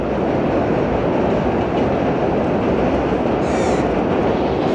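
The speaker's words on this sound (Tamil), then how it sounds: "கரெக்டாக நம்ம நிற்கும் போது கரெக்டாக ஒரு ட்ரெயின் போகுது" Trans-Siberian train rolling across a railway bridge in a Russian riverside town, a steady loud rumble and roar of wagons that fills the whole stretch without pause.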